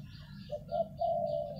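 A morning dove coos one short rising phrase, near and clear, over a constant low rumble with faint bird chirps above it.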